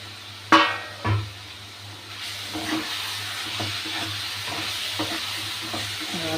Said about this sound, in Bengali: আলুর সাথে একটু কষিয়ে নেব